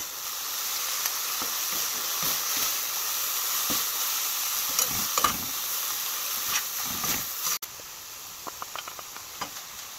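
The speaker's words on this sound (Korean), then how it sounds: "콩나물 무침이 아니라 볶을 거예요. 볶는 게 더 맛있습니다." Bean sprouts stir-frying in a hot pan give a steady bright sizzle and hiss, with soft scrapes and patters of stirring scattered through and a sudden drop in the sizzle near the end.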